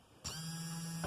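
A Kwikee RV auto step motor, wired straight to a battery, spins up abruptly with a steady electric whine and a buzzing hum for under a second, heard up close and faintly, with no talking.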